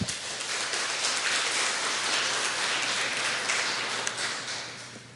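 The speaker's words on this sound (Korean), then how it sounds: "우리 저 악기 팀을 위해서 박수 한번 드리죠." A church congregation applauding steadily for several seconds during a Sunday service, a rapid wash of overlapping claps that fades slightly toward the end.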